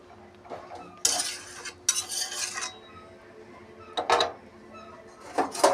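Malabar spinach cooked with fish eggs stirred in a pan, loud scraping bursts of a spatula against metal in several separate strokes up close, with light clinks between.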